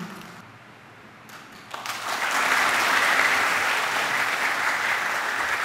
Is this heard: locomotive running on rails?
no